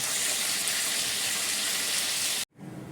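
Potato pieces sizzling in hot oil in a pan, a loud continuous hiss that stops abruptly near the end, leaving a faint low background.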